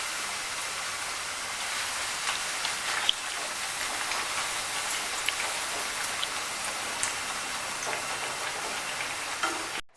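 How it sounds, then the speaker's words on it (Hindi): Bread slices fry in hot ghee, giving a steady, dense sizzle and crackle that runs unbroken and fairly loud throughout, with no talking over it. "अब इसी तरह हमने तमाम ब्रेड स्लाइसेस को फ्राई करना है।"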